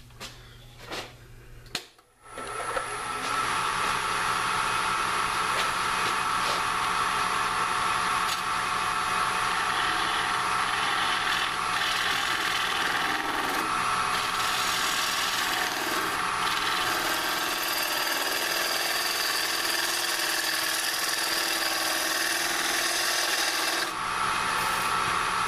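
Wood lathe spinning up a ring box blank, a brief clunk at the start, then a loud, continuous whirring hum with faint scraping and rubbing texture that holds steady for over twenty seconds.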